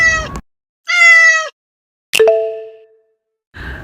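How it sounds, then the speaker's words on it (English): Two clear cat meows, the second longer, followed by a bright chime ringing out and fading, then the start of another sound. "I am cat."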